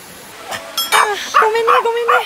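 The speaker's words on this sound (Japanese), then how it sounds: "犬がびっくりした" A startled dog near a two-tiered waterfall lets out several short, close, high yelps and barks in quick succession.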